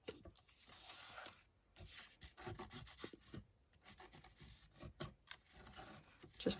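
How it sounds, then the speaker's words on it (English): A tool rubs along the glued edge of a paper book page in quiet, irregular rasping strokes, close and soft, with brief pauses between passes and no voices. "Just burnishing on the edge, not all over"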